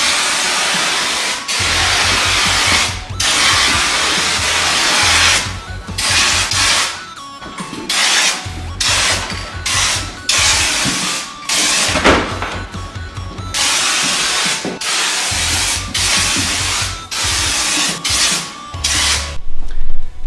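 Rustoleum Turbo spray paint can firing repeated bursts of loud, close hissing spray, each lasting a couple of seconds with short gaps between, over a low background hum.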